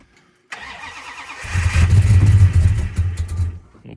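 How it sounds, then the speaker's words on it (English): A car engine on a cold start cranks briefly, catches and then settles into a rough, loud idle that dips and wavers before fading, with no talk over it. "Just pump it up now and just start it idled."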